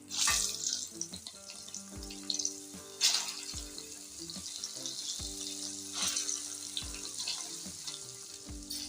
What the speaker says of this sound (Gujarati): કારેલા આપણે ધીમા ગેસે ધીમે ધીમે હળવા હાથે હલાવી અને બે થી પાંચ મિનિટ માટે સાતરી લેવાના છે